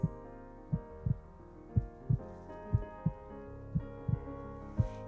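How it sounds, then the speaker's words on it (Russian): Heartbeat sounds thump steadily in soft pairs, about ten low beats in a slow even rhythm over a quiet background, used during a meditation. "услышьте стук сердца"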